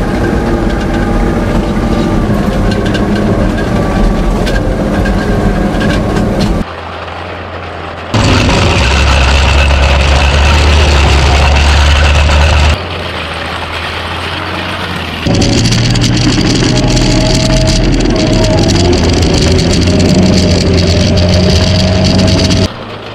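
Stridsvagn m/37 tankette engine loud and close on a bumpy drive, a steady mechanical roar that drops and swells in distinct stretches as the load changes, with no talking.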